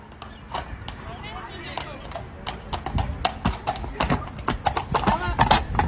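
Police horses' hooves clip-clop on pavement in a steady, close run of hoofbeats, with people talking and shouting over them.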